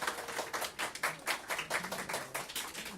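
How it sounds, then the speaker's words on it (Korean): A church congregation at a New Year's Eve worship service claps in a quick, steady patter of many hands, moderately loud and sustained, welcoming a visiting family. "박수 한번 쳐줄까요?"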